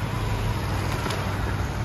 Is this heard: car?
yes